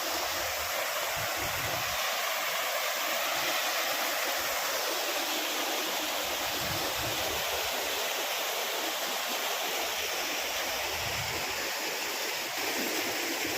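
Dense, steady roar of falling water at Daitari waterfall, a broad unbroken wash of white noise that holds constant from start to finish with no voices over it.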